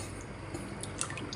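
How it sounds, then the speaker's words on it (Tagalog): Orange juice poured into a sauce of white vinegar and soy sauce for orange chicken, a steady liquid trickle with faint drips running evenly throughout. "ilagay na po natin tong orange juice"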